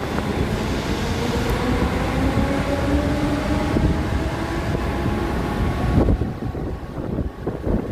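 A Mumbai slow local train pulls out of Ghansoli station on the Trans Harbour Line, a steady loud rumble of wheels and wind rushing past, with a rising whine running through it before a rattling jolt near the end.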